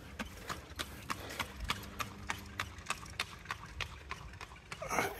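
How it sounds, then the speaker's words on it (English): A horse's hooves clop along at an even walking pace, fairly faint and distant, ending in a brief rustle. "There's a horse running by here out of the road."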